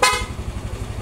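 A short, loud honk of a stock horn on a Yamaha NMAX v1 scooter blares at the start, then an idling engine putters on alone.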